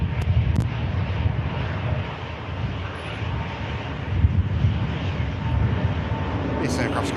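A Eurowings airliner in from Stuttgart comes in to land at an airport, a continuous loud engine rumble with gusts of wind noise on the microphone, steady and close throughout.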